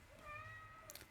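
One faint, drawn-out cat meow rises and falls in a quiet room, alone and slightly distant.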